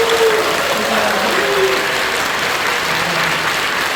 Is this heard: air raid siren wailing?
no